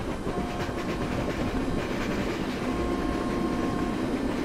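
Indian Railways trains, broad gauge and metre gauge, run side by side on parallel tracks, a loud, steady rumble with rhythmic wheel clatter heard from close by, with no voices.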